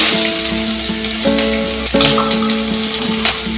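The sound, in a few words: chopped onion frying in ghee with cardamom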